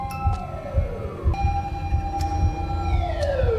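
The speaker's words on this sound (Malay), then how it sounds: "Aku dengar siren polis lah." Police siren in the horror game Chilla's Art: The Karaoke, wailing in rising and falling sweeps over a low rumbling background, loud and steady for the whole stretch.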